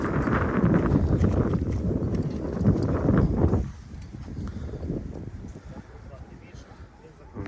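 Hooves of Brabançon and crossbred Percheron mares clip-clop in a quick, irregular patter outdoors. A voice talks over the hoofbeats, and wind buffets the microphone. The sound drops noticeably in level about halfway through.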